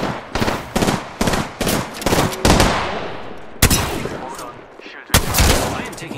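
Gunfire in the shooter game Apex Legends: loud, close automatic bursts come in quick repeated volleys, then a pause and two more heavy blasts.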